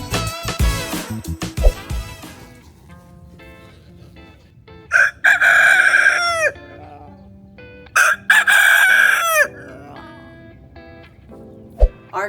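Backyard laying hens cluck steadily while a rooster crows loudly twice, long drawn-out calls close by, with scattered cackles and a brief voice in between.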